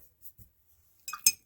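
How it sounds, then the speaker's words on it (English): A paintbrush is rinsed in a water jar, with faint soft taps followed by a couple of quick bright clinks against the glass in a quiet room. "So I'm just rinsing off my brush, wipe it on my paper real quick"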